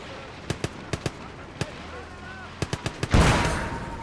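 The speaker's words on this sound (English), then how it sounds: "There's artillery over there." Artillery cannon fire in the World War II video game Gates of Hell: Ostfront, a run of sharp distant booms in irregular clusters, ending with one heavier close blast that rumbles away.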